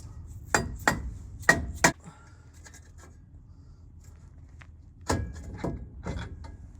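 Sharp metallic hammer blows on the wheel hub assembly of a 2005 Chevy 2500HD truck: a quick cluster of four strikes, a pause, then a few more ringing hits, close and loud.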